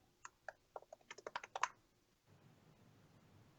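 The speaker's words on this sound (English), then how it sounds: "Apologies for all the typing" Keys on a computer keyboard clatter in a quick run of about a dozen distinct clicks that speed up toward the end, then stop, leaving only faint room hiss.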